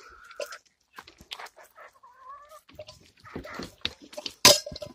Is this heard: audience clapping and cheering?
no